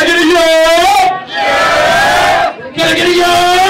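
A concert crowd at a hip hop show in New York bellows "yo" in unison, loud massed voices in two or three surging shouts separated by brief gaps.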